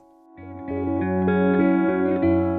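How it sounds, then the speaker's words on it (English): A dark, swelling reverberant tone from a spring reverb on a boom stand enters after a short silence, sustained and layered with echoing harmonic drones that build and hold, no voices. "We'll use that ominous spring reverb sound from my boom stand in the studio."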